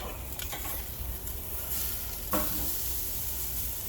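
Pork steaks sizzle loudly and steadily inside a Big Easy turkey fryer, with a brief thump and a surge of crackle as a steak is flipped partway through.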